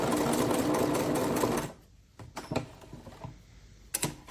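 A Singer sewing machine appliqués a double wedding ring quilt with a rapid, even stitching buzz for about a second and a half, then falls to quiet clicks and fabric handling.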